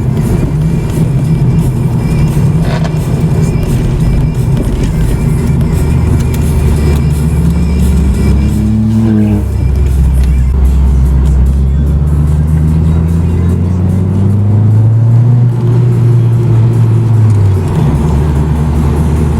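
Riding inside a 1991 Toyota Celica GT-R, the engine drones and rises through the gears, pitch climbing and dropping at each shift over steady road and cabin noise, loud and close for about twenty seconds.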